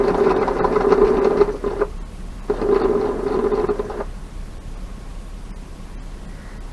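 A sewing machine stitches quilt pieces together in two steady mechanical runs, with a short pause between them, followed by quieter room hum.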